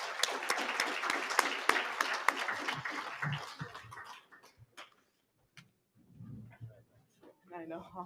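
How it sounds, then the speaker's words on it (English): Audience applause at a Lakota media summit, a few seconds of clapping that thins out and stops, followed by quieter room sounds and low voices. "Let's give them a round of applause"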